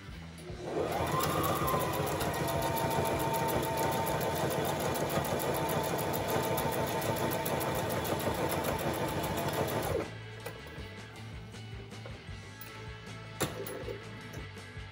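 A domestic sewing machine runs a long continuous zigzag stitch with presser foot number 6, a steady loud mechanical whir lasting about ten seconds before stopping, followed by quieter handling sounds.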